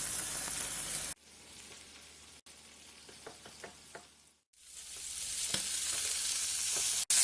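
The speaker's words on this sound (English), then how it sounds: "Add in the marinated chicken legs or drumsticks and we'll just cook them till they get a light color on them." Marinated chicken drumsticks sizzle in a hot pan for a curry with green chutney, a steady frying hiss broken by abrupt cuts and a quiet stretch with a few faint clicks before the sizzle swells back in.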